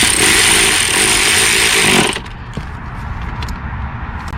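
A power tool whirs loudly and steadily for about two seconds while snugging down valve cover bolts on an Infiniti G35, then cuts off abruptly, leaving faint clicks and handling noises.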